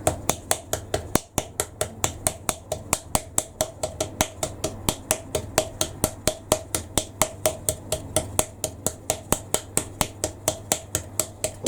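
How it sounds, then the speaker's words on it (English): A wooden tool smacks clay coils on a tall, narrow coil-built pottery bowl with curved sides, giving a steady run of quick, sharp taps at an even rhythm, close up with no talking. "So I'm smacking in the bits with this wooden thing."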